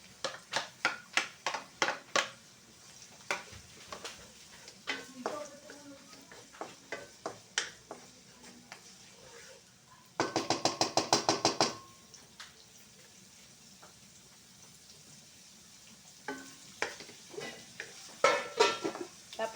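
Garlic sautés in a pan for chicken kaldereta, soft frying under a run of sharp utensil taps and scrapes, with a dense burst of rapid clinks in the middle and more clatter near the end.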